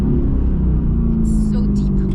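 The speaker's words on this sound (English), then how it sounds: "AMG GTR with this unique AMG V8 sound." Mercedes-AMG GT R with its V8 engine, a deep, loud, steady rumble close by, running continuously for the whole stretch with faint high-pitched noise on top.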